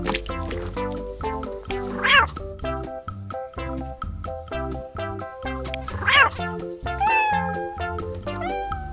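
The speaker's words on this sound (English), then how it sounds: "Cat." A cartoon cat gives two drawn-out meows, a few seconds apart, over cheerful background music.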